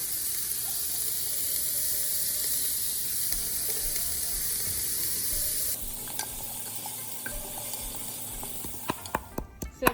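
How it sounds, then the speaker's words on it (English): Onions sizzle steadily in a hot pan with cumin seeds and salt, a dense continuous frying hiss. Near the end a few sharp scrapes and knocks of stirring break in, and no one speaks. "I'll start with frying my onions."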